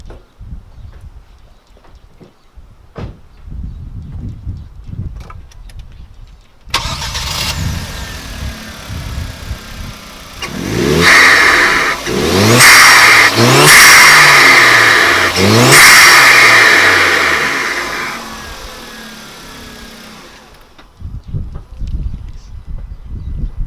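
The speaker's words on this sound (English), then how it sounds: "I just want to turn on my car and see how it sounds." A Hyundai Genesis Coupe 2.0T with a newly fitted Injen cold air intake cranks and catches, then revs hard several times in rising surges before settling into a steady idle and cutting off.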